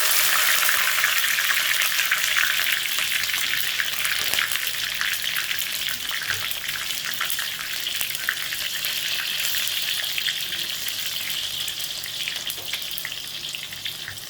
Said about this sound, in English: Once it starts popping, add in the green chili, curry,